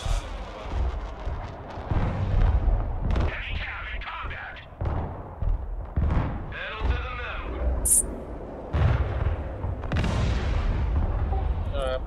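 Anti-aircraft guns fire in the Broken Arrow video game, with repeated heavy booms and rumbling blasts layered over continuous battle noise while a player talks over the action.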